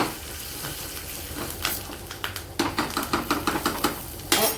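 Dried kasuri methi crackles and sizzles in hot oil as a tadka for raita. A steady frying hiss runs underneath a series of quick, rhythmic metallic clinks from a spoon stirring in the pan, close and fairly loud.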